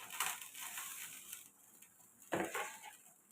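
Saluyot (jute) leaves stirred in a cooking pot, a few close rustling, crunching scrapes with a utensil in two bursts, fairly quiet, no voices.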